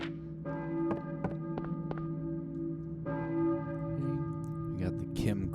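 Church bell tolling in the Silent Hill video game, several clear resonant strikes spaced a few seconds apart over a sustained droning ambient hum, close and fairly loud.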